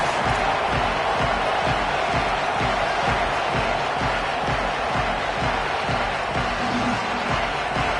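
A college football stadium crowd at a season-opening kickoff between the Longhorns and their opponent, heard as a dense, steady roar of distant massed voices with no clear individual sounds.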